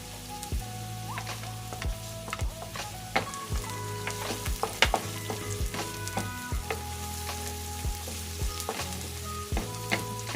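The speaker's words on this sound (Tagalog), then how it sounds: "Sunod, ininix ko na yung aking bawang." Minced garlic sautéing in a pan for a bitter melon and ground pork dish, a steady close sizzle broken by repeated scraping stirs and clinks, with no talk.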